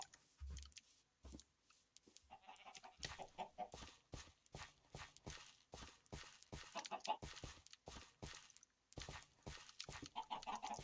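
Chickens cluck in a Minecraft farm, a string of short, clicky in-game clucks repeating throughout against a busy game soundscape.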